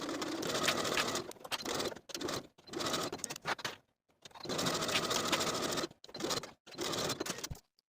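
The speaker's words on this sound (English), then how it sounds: "sew as pinned with a 1/2 inch seam allowance" A sewing machine stitches fabric button tabs along a half-inch seam in several quick bursts of steady whirring, each run stopping briefly before starting again, close and fairly quiet with no voice.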